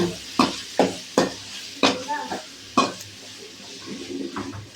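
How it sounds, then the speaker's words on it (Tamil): Onions and tomatoes sauté in a pan for Thoothukudi-style sala fish curry, a steady sizzle broken by sharp, rhythmic scrapes of a spatula stirring against the pan, close and loud, with no talking. "வெங்காயம் தக்காளி 2 சேர்ந்து அப்படியே வதக்க போகிறோம்."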